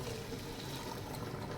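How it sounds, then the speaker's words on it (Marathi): Water from the mixer jar is poured into hot tempering for misal, giving a steady, rushing, hissing wash of liquid throughout with no break or talk. "आता ह्याच्यामध्ये ना मिक्सरला जे केलं होतं त्याचं पाणी येते मी मिसळून टाकते."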